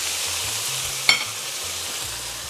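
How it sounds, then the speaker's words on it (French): A little water splashed into a hot frying pan to deglaze it, a steady hiss with one sharp crackling burst in the middle, close and fairly loud. "On va venir déglacer avec un tout petit peu d'eau."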